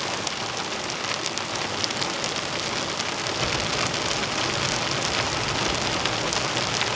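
Heavy, steady rain pours down on a tent at night during a storm in a forest campsite in Chippewa National Forest, a dense, unbroken hiss with scattered drops pattering close by and no let-up.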